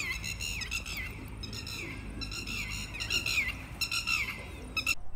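Many birds squawking and chirping in dense overlapping calls at a gurdwara in Kottan, Ludhiana, a loud continuous chorus with sharp bursts toward the end and no talking.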